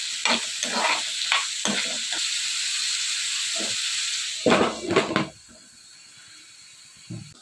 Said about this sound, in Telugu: ఈ ఆనియన్స్ అన్నీ కూడా బాగా మగ్గిపోయేంత వరకు ఆయిల్లో ఫ్రై చేసుకోవాలి.